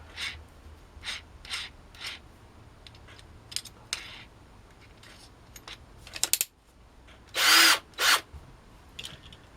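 Short bursts from a drill fitted with a 3.5mm HSS bit, working on a Hot Wheels Ferrari 308 GTB die-cast car, come in several brief pulses followed by one louder, longer run near the end with small clicks between.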